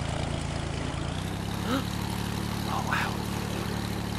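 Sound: small propeller plane taking off in Airport Master video game

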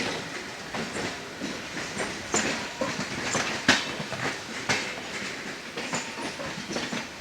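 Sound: train hauled by double diesel locomotive, clickety-clack

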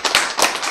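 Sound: audience clapping once

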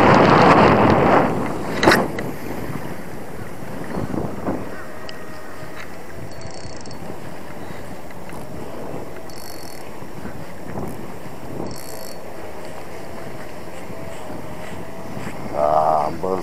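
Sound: strong wind blowing on a boat while lure fishing

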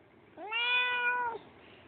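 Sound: cat meowing

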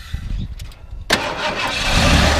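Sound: 1990 Ford F250 XLT Lariat truck engine starting

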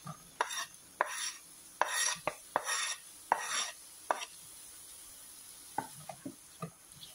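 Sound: sautéing onion, tomato and ginger in butter

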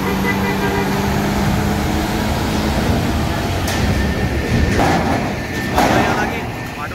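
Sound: Harapan Jaya bus speeding past

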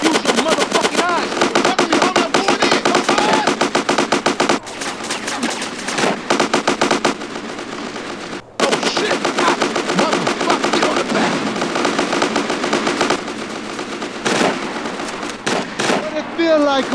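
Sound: gunfire in GTA San Andreas video game

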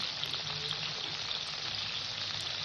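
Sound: snakehead (shol) fish frying in oil on low gas

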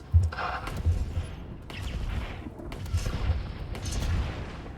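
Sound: tank cannon shot in video game

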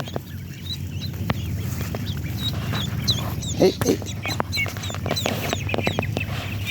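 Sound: small duck calling

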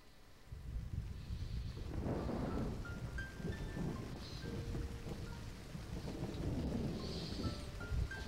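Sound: rain and thunder in Dust: An Elysian Tail intro, video game

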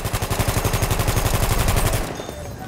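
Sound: gunfire in Battlefield video game

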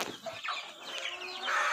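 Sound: hen clucking on a free-range poultry farm

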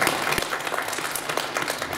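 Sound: applause welcoming the medical staff

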